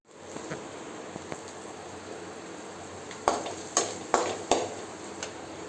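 Chilli chicken sautés in a pan over a low flame, a soft steady sizzle with several sharp stirring scrapes and clacks of a spoon toward the end, close by and without speech.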